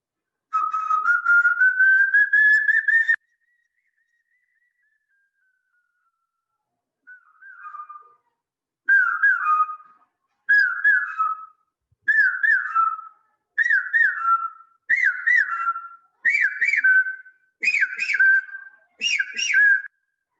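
A person whistles an imitation of a bird call: one long rising whistle, a pause, then a series of short, evenly spaced whistled phrases that climb in pitch and grow louder, clear and close with no talking.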